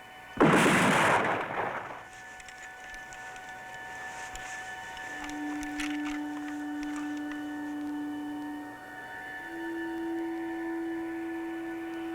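A firing squad lets off one loud volley of gunfire, a sharp broadband blast that quickly fades into a quiet ringing drone and low steady tones.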